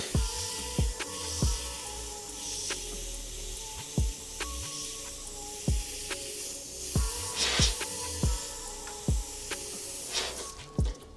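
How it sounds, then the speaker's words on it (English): A soft, steady airbrush hiss as black paint is sprayed in a line, with faint clicks and taps at irregular intervals, quiet and close. "Spraying that line with the black."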